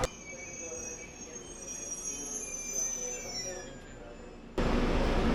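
A train in Japan runs along the rails with a steady rumble and faint high wheel squeal, then a louder rush of noise near the end, with no talk.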